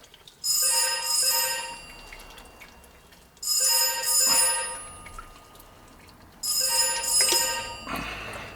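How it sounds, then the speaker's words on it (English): A telephone rings in a garage workshop where a 1982 Porsche 911 (930) is being serviced, three bright double-trill bursts spaced a few seconds apart, fairly close, with quiet workshop background between them. "the phone rings 24/7 here"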